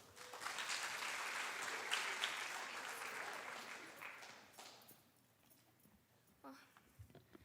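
A crowd at a high school academic awards ceremony claps for several seconds, a bright, dense patter that swells then fades out, followed by quieter room sounds and brief voices.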